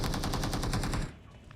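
Rapid automatic weapon fire in a video game, a steady stream of evenly spaced shots for about a second that cuts off abruptly, leaving faint background noise.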